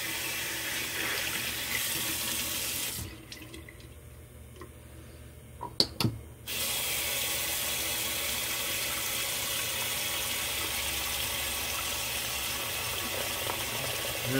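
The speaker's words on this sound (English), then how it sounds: "You get a cold water rinse in." Cold water runs from a tap in a steady broadband rush, cutting off for a few seconds with faint clicks before flowing again, close and continuous.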